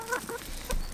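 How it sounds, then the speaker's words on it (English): A young chicken squawks in short, harsh bursts with rough, breathy noise between them. The calls are fairly close, with no talk over them. "She's starting to get her adult squawks."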